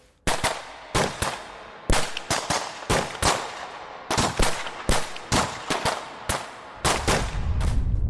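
Repeated gunshots ring out in irregular bursts, sharp loud cracks spaced a fraction of a second to a second apart, some in quick pairs, with a rumbling low roar swelling at the end.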